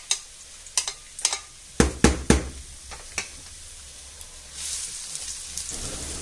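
Vegetables gently frying in a pan: scattered clicks and clatters of handling come first, then a soft, low sizzle builds up near the end.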